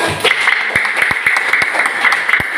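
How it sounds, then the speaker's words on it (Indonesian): In an elementary school fifth-grade classroom, children clap together in a busy, loud burst with a few sharper individual claps standing out, and a voice briefly over it at the start. "Tepuk tangan dong."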